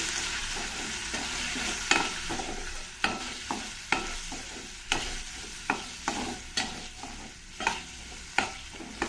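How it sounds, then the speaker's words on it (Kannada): Soya chunk curry masala fries in a pan under a steady sizzle. Repeated spatula strokes scrape and clack about once a second, close and clear. "ಈಗ ಇದನ್ನೆಲ್ಲ ಸ್ವಲ್ಪ ಚೆನ್ನಾಗಿ ಫ್ರೈ ಮಾಡ್ಕೊಳ್ತೀನಿ"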